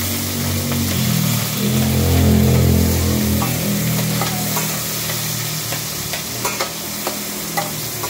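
Onion sautéing in hot oil for ginisang upo, sautéed bottle gourd, with a continuous close sizzle and low rumbling underneath, then a few sharp utensil clicks toward the end.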